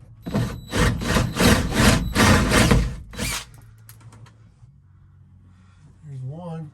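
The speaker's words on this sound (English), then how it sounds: "So I need to enlarge that hole and that hole so I can just put a screw right through." A drill or rasping tool enlarges a screw hole for a side crown installation on a Wagon Queen Family Truckster, several loud rhythmic grinding bursts for about three seconds, then quiet with faint clicks and a brief voice.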